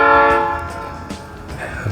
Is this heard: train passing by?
yes